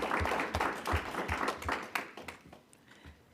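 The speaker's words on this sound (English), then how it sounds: "You can clap." Audience at a school board meeting clapping for a college and career readiness department, a modest round of applause with distinct rhythmic claps that thins out and fades toward the end.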